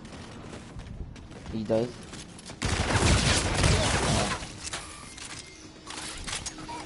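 Gunfire in the Call of Duty: Infinite Warfare video game, a loud, dense burst of rapid shots lasting a couple of seconds mid-clip. A voice speaks briefly over quieter background game noise.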